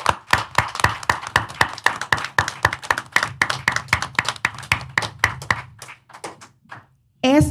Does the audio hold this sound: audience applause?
yes